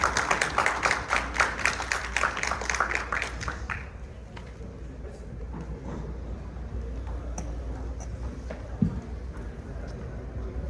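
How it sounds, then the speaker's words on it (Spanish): A conference audience applauding the speaker, with a burst of quick, dense clapping for about four seconds that then fades into a quieter room with scattered sounds. "Un fuerte aplauso para nuestro conferencista"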